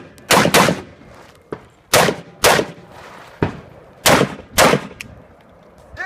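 A Walther PPQ 5-inch pistol fires at an outdoor action shooting range, six loud sharp shots in uneven pairs, each with a short echoing tail, and no talk between them.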